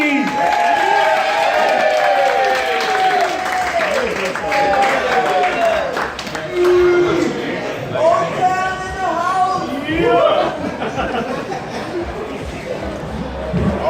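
A comedy club audience applauds and cheers for comedian Big D, with steady clapping, whoops and shouts filling the room throughout, mixed with crowd chatter and loud voices on top.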